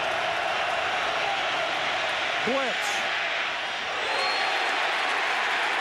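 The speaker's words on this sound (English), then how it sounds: "So the crowd noise hits a decibel level high now." A dense, steady roar from the stadium crowd at an NFL game between the Indianapolis Colts and Baltimore Ravens in 2005, filling the background throughout while a commentator talks over it.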